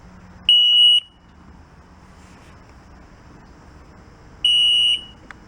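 A broken yard-sale jet ski emits two sustained electronic beeps, each about half a second long, spaced several seconds apart over a low windy outdoor background.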